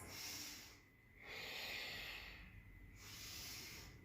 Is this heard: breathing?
yes